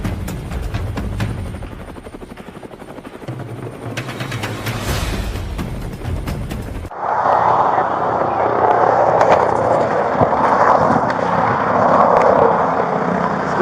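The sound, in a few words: helicopter filming police pursuit of stolen car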